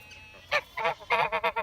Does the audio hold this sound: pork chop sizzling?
no